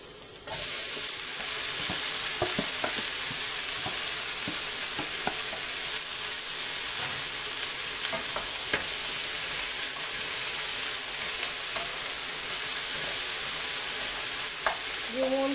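Chicken, vegetables, onion and garlic stir-frying in a pan, giving a steady, close hiss and sizzle with scattered clinks of stirring throughout, no talking.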